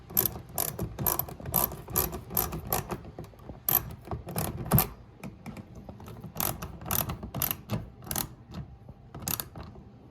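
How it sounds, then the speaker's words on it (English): A hand ratchet snugs 7mm bolts on the license plate bulb housing of a Chevy Impala, giving quiet, close bursts of rapid clicking in uneven spurts with short pauses between strokes. "just snug these 7mm bolts back up and just make sure they're snug"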